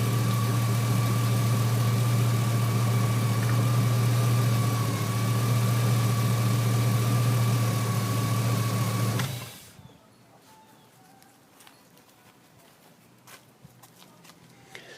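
A 2003 GMC Sierra SLE truck engine idles steadily and close by with a low, even hum and whine for about nine seconds, then cuts off abruptly into quiet background with faint clicks.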